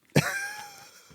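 A single sharp cough from a woman close by, a sudden burst that trails off into a breathy, fading tail.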